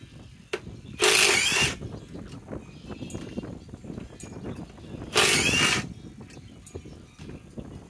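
Hercules cordless drill rated at 2200 inch-pounds, on speed 3, boring into sheet metal, giving two short loud whining bursts separated by quiet background noise.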